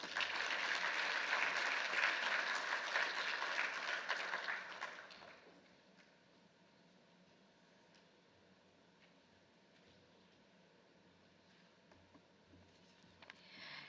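Conference audience applauding after a speaker's remarks at an African agricultural technology event, a loud sustained burst of clapping for about five seconds that then cuts to quiet room tone.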